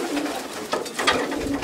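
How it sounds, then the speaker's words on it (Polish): Pigeons coo inside a racing pigeon loft holding birds from the Herbots line. Several soft, throaty coos overlap near the microphone against quiet background noise. "A to jest cały gołębnik, głównie gołębie od Jo."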